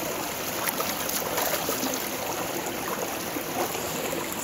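River stream water flowing while tomatoes are washed in it, a steady trickling and gurgling rush with a few soft splashes and no voices.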